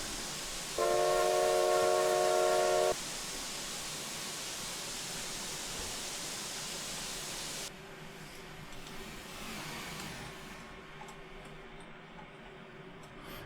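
A steam whistle from an SAR Class 24 locomotive in Train Simulator gives one loud, steady multi-tone blast of about two seconds, then the engine's running noise and rail rumble carry on alone before fading quieter.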